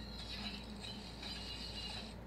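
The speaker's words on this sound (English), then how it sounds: "it plays some audio that I guess is meant to sound like the helmet is being deployed over your face" The Marvel Legends Star-Lord helmet plays its deploying sound effect, a soft mechanical whirring and clicking. It runs for about two seconds at low volume, close up and without speech.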